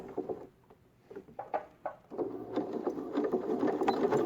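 Sewing machine stitching a quarter-inch seam on a cloth mask, starting with short bursts of stitching then settling into a steady close rapid whir that speeds up, alone without talk.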